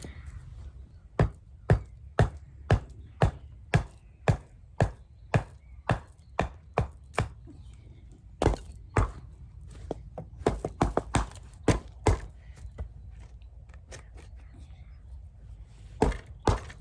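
An old railway sleeper is hammered out from under the track of a set of points, with a run of sharp, loud wooden thuds and knocks, steady at first and then in quicker uneven bursts, close by.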